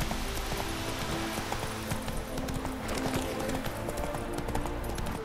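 Horse hooves clip-clopping at a steady gallop in The Witcher 3 on PS4, a continuous rhythmic patter with faint background music and game ambience.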